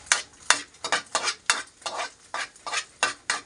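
Chopped garlic sautéed in a pan with a utensil stirring steadily, giving a rhythmic series of sharp scraping, sizzling strokes roughly twice a second, close and clear with no talk.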